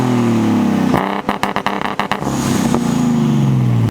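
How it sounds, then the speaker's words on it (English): A Nissan RB20DET six-cylinder engine, fitted with LS2/LQ9 coil packs, idles and revs up close, with a rough, pulsing burst of quick throttle blips in the middle before settling back to a steady run. "It sounds really good. It's definitely running on all 6 cylinders."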